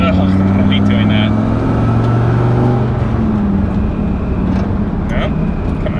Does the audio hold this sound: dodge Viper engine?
yes